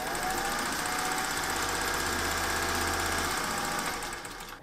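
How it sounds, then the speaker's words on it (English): A sewing machine stitches a gusset to a shirt sleeve, running in a steady fast mechanical whir close up for several seconds before slowing and stopping near the end. "you're gonna sew along this edge, which is parallel to where your arm goes"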